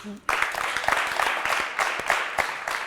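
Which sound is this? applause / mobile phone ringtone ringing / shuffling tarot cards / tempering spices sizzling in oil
applause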